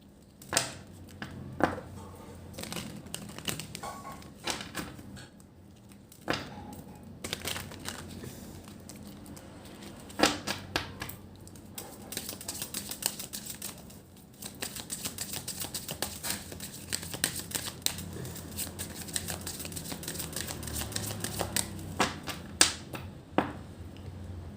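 Tarot cards are handled, shuffled and laid down on a table, with scattered light snaps, taps and soft crinkles at an irregular pace. The sounds are close but quiet, and no one speaks.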